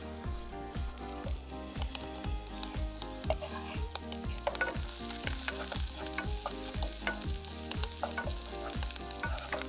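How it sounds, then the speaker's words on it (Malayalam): Chopped herbs and garlic sauté with softening shallots in a hot pan, a steady close sizzle and crackle of frying throughout, with a light stirring texture and faint background music. "ഷാലോട്ട്സ് ഒന്ന് കളർ മാറി വരുന്നുണ്ട്. അതിലേക്ക് നമ്മൾ അരിഞ്ഞു വെച്ചിരിക്കുന്ന ഹെർബ്സും ഗാർലിക്കും ചേർക്കാം."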